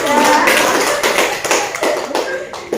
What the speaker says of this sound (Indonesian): Boleh tepuk tangan untuk kita.